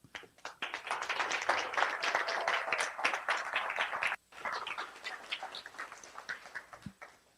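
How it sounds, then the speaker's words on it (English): An awards-brunch audience for 100 leading Black professionals breaks into sustained, dense clapping after an honoree is named, the applause briefly dipping before continuing and fading out. "you know you're well known when someone says your name and everybody just instinctively starts clapping"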